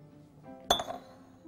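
Drinking glasses clink together once as they are set out for watermelon smoothie, a single bright glassy chime close by, with faint rustling around it.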